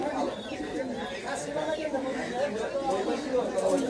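Pigeons at a bustling pigeon market in Bangladesh, with cooing and bird calls mixed into a dense crowd murmur and chatter throughout.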